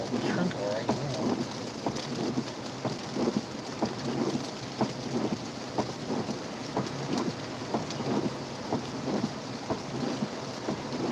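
Light rain falling outdoors during an incoming storm, a steady patter with low rumbling thunder and frequent soft ticks of drops, continuous throughout.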